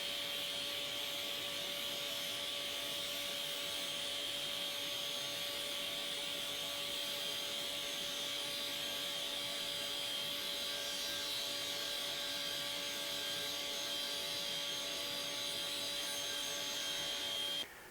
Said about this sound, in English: I'm going to make a series of climb cuts.